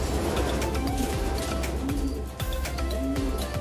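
A racing pigeon coos in low repeated soft phrases, close by, over a dense background of other birds calling and chirping, with no talk.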